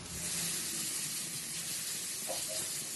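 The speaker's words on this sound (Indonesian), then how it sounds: "Wajannya udah panas, kita masukin bumbunya. Kita tumis sampai wangi." Spice paste sizzling steadily in a hot wok for nasi goreng with noni leaves, a continuous broad hiss with no pauses or talk.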